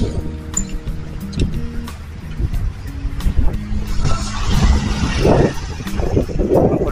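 Road traffic around a delivery rider heading to a biryani restaurant, with a steady drone of engines and wind buffeting the microphone. The noise swells louder toward the end, and faint voices come and go beneath it.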